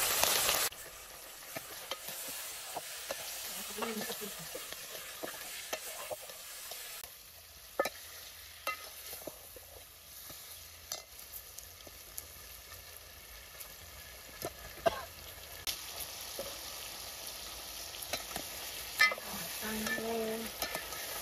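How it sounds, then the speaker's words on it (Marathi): Tempering sizzles and crackles in hot oil for a village chicken curry cooked on a wood-fired stove, with a steady fry and occasional stirring scrapes running throughout, close and fairly loud, with no talking. "फोडणी."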